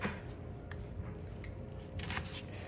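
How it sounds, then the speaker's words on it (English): A knife cutting an onion in half, producing a few faint crisp crunching cuts and soft taps against a board, close but quiet over a low background hum, no talking. "this is the onion I'm gonna use. I cut them in half like this."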